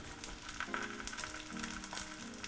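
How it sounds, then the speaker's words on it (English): An egg frying hot in a pan until crisp and golden at the edges, giving a steady close sizzle and crackle with a few brief tonal scrapes, no talking. "You fry it until that egg is crisp, like it's golden brown on all of the edges."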